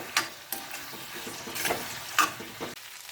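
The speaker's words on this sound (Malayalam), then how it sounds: "ഇത് നമ്മൾ നന്നായിട്ട് ഇളക്കി കൊടുക്കണം" Buffalo meat frying dry Kerala-style in a pan, stirred with a spoon: steady sizzle with a few louder scraping stirs at irregular intervals, close and alone without talk.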